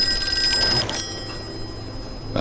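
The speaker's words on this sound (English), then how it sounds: "that phone is driving me crazy" A telephone rings in the Call of Cthulhu game, a bright electric bell heard alone. It breaks off partway and leaves a low room hum.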